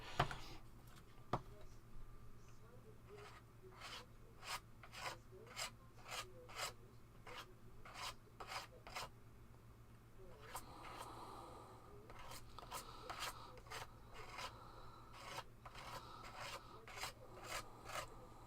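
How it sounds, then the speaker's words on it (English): Paste spread and scraped back off a mixed media surface at an angle, a series of regular rasping scrapes with short pauses, close and fairly quiet. "just at a little side angle, probably about a 45-degree angle, just to scrape it back off again"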